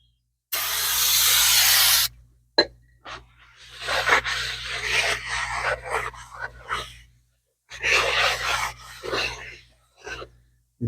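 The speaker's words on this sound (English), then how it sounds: "So what I like to do is come in and use my brake cleaner." Brake cleaner sprays onto the front brake rotor of a 2003 Dodge Ram in a bursty series of close hissing blasts, separated by brief pauses and rubbing sounds.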